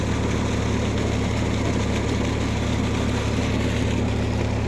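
A generator engine runs a 10 HP Crompton solar submersible pump lowered into a borewell, giving a steady, loud, low droning hum with constant vibration and no change in pace throughout, with no voices.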